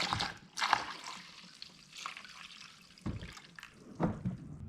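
Coolant being poured into the reservoir of a Corvette during a water pump replacement, a soft liquid trickle and splash in short bursts, close and fairly quiet, with no talking.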